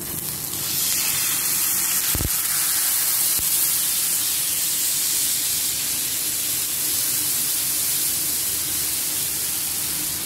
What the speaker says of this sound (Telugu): దోశ కాలుతుంది, పైన ఆయిల్ వేసుకున్నాం.